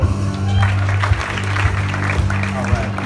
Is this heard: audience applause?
yes